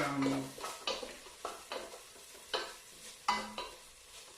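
Garlic and onion frying in a pan for a spicy vegan chilli: a faint sizzle under repeated spatula scrapes and stirring strokes that come every half second or so.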